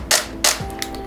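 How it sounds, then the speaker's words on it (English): Two sharp mechanical camera shutter clicks spaced about a third of a second apart, close and crisp, from a camera firing in low speed continuous drive mode, followed by a fainter third click. "Low speed continuous will sound something like this."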